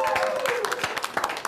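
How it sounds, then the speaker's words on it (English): A talk-show studio audience gives a brief burst of clapping to welcome a guest cook, a short, close flurry of hands with a voice trailing over the start. "Everybody, big round of applause for Case DeGario."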